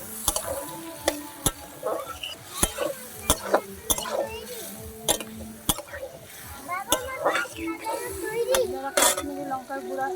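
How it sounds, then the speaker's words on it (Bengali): Spice paste for a village-style hilsa fish curry being stir-fried with the water used to rinse the spices: sizzling in the pan beneath repeated scrapes and clinks of a utensil against metal, with a voice speaking intermittently. "মশলা ধোয়া জলটা দিয়ে কষিয়ে নিচ্ছি।"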